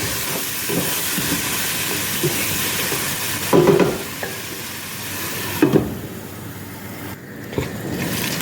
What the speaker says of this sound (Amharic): ይሄንንም ለ15 ደቂቃ ወይም ለ10 ደቂቃ አብሬ አቁላለዋለሁ።